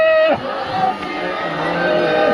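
A large crowd at a Sikh religious procession shouts a jaikara chant together, loud and continuous, a dense mass of voices filling the whole moment.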